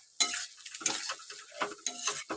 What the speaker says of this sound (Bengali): সেই মাছ 3 পিস দিয়ে দিলাম, দিয়ে খুব ভালোভাবে কিন্তু নেড়ে নেব।